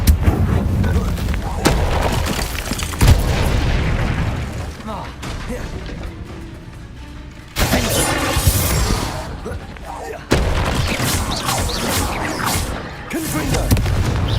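Explosive Confringo spell blasts boom repeatedly during combat in Hogwarts Legacy, with loud bursts and crackling impacts over a dense battle din, while a voice talks intermittently.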